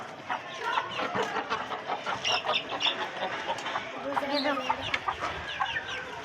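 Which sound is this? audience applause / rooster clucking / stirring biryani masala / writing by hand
rooster clucking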